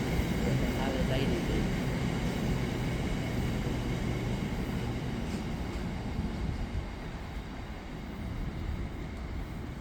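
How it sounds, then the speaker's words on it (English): A GBRf Class 66 diesel locomotive hauls a container train through Nuneaton on the West Coast Main Line, a loud, steady rumble and rattle of wagons rolling past close by, with an engine drone that fades partway through. "passing through now is a GBREF Class 66 on a container train from Birch Coppice to Felixstowe North"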